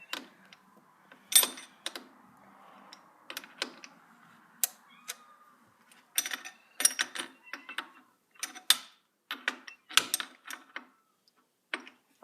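Wrenches tighten the collet on a router bit in a plunge base, giving faint, irregular metallic clicks and ticks in short clusters over a quiet background.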